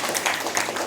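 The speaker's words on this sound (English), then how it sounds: "big round of applause" Steady applause fills a Toastmasters club meeting, a dense wash of many hands clapping close by at an even level throughout, with no voices over it.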